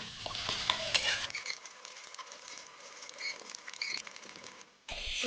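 Egg and pointed gourd filling is stirred and fried in a wok, with steady sizzling and frying crackle and scraping of the stirring spoon against the pan throughout.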